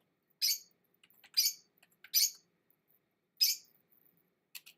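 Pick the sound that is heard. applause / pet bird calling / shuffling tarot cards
pet bird calling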